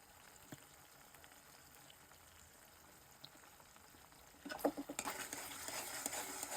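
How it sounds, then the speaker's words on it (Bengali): Chicken wings are stirred in a pan of soy and tomato sauce, with quiet wet sizzling and scraping at first, then louder bursts of bubbling and stirring in the last couple of seconds. "এখানে নাড়িয়ে নিচ্ছি"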